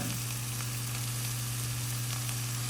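Ground meat and onions sizzle steadily in a hot pan for sloppy joes, a dense, continuous crackling hiss over a low stove hum, close and fairly loud with no talking.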